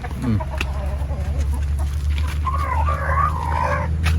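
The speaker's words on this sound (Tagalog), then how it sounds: "Tapos may mga manok dito nakakulong." Chickens cluck and croak nearby over a steady low hum, with a faint higher bird call rising and falling in the background.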